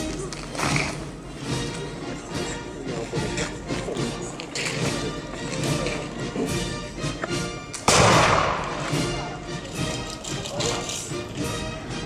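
Black-powder musket volleys at a Napoleonic battle reenactment held outdoors, sharp shots popping repeatedly amid crowd chatter and talk, with a louder close burst partway through.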